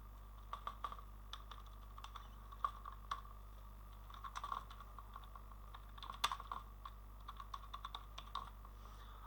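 Quiet keystrokes tapping on a computer keyboard in irregular bursts, soft and close, over a steady low electrical hum with no talking.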